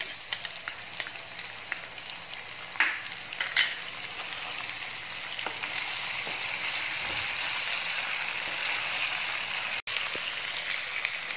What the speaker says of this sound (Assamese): চিলি চচ, তাৰপিছত চয়া চচ আৰু অকণমান টমেট' চচ, এইখিনি এতিয়া মই ইয়াত মিক্স কৰি দিম।